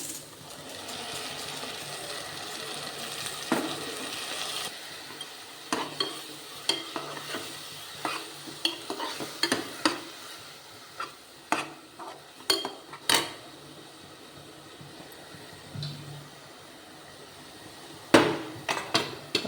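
A ground ginger, garlic, chili and shallot paste fries in a pan with a soft sizzle, while a utensil stirs it in repeated sharp clinks and scrapes against the metal, some louder taps near the end.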